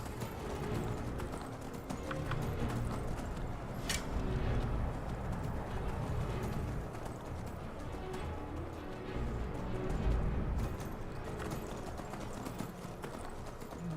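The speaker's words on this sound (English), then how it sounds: "I still don't like running a horse downhill" Horse hooves gallop at a steady, fast clip-clop in Skyrim as the mount runs downhill; the pounding is continuous and close, with no talking.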